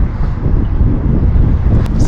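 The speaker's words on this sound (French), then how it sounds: "Et toujours avec un vent à décorner les bœufs." Strong wind roars and buffets the microphone nonstop during roof tiling work, a dense low rumble with gusty rustling throughout.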